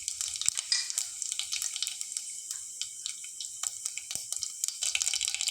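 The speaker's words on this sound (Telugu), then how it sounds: "ఆయిల్ హీట్ అయ్యాక జీరా ఆవాలు ఇట్లా వేసుకుందాము" Cumin and mustard seeds hit hot oil in a pan and sizzle, a close, bright hissing crackle with scattered pops that carries on steadily and alone.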